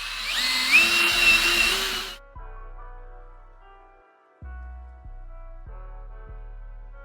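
A power tool fitted with 800-grit sandpaper grinds oxidation off a car headlight in a loud, close burst of about two seconds, then cuts out and is followed by quieter sustained tones.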